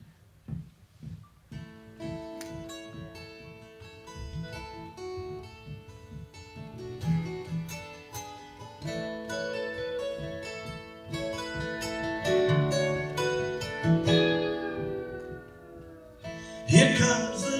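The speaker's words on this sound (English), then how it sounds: "He kind of grabbed hold of one of Eric's big giant acoustic guitars," Big acoustic guitar playing a song, bright picked notes and ringing chords in a steady melodic pattern, close and clear with no talking, building to a brighter strum near the end.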